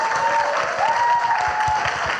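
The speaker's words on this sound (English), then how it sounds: "One more round of applause for them." A seated audience at a panel discussion claps steadily in a dense, even round of applause, fairly loud and close, with a faint tone running underneath.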